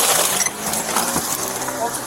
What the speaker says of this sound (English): Oh, that was not gunshots. That was the ceramic thing.